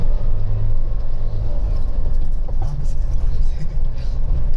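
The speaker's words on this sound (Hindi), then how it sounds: "मैंने दूसरे गियर में कार कर रखी। अब देखना मैं इसे खींचता हूँ" A Mahindra Thar pulling hard in second gear gives a steady, loud engine roar with low rumble throughout, heard from inside the cabin while someone talks over it.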